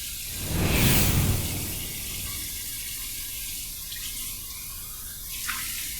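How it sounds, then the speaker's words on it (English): Water runs from a tap for rinsing during a wet shave, a steady close splash with a louder burst near the start, then a continuous softer flow with a faint clink near the end. "a hot towel rinse and then a warm water rinse and then a cold water rinse"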